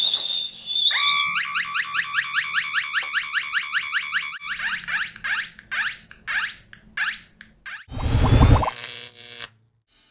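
An electronic toy bird built from a kit makes a burst of fast, bright chirps repeating in a steady rhythm, followed by warbling sweeps and a brief noisy crackle near the end.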